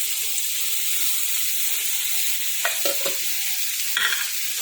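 Spiced water goes into a pan of frying spices, raising a loud, continuous hiss and sizzle, with a few light clinks and splashes toward the end.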